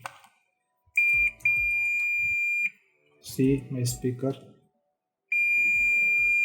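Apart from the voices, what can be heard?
multimeter continuity buzzer beeping on speaker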